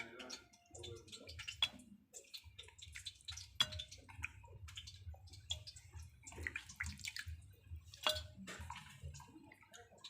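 Tap water running and splashing while cut fish are washed, quiet and close, with irregular drips, clinks and splashes over a low steady flow.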